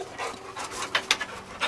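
Dog panting in quick, steady rhythmic breaths, fairly close and moderately loud, with a few sharper gasps, as one of two dogs rests after physical activity.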